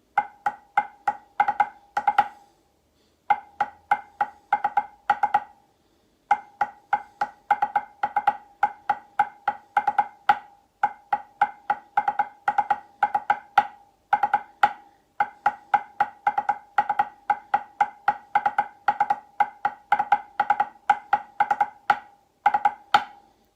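A Lambeg drum beats in rapid triplets, pounding continuously in a fast rolling rhythm with a couple of brief pauses, loud and close.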